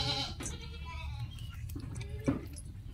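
Javanese Randu goats on a farm bleat up close, one wavering cry at the start followed by shorter calls, with faint chewing and rustling in between.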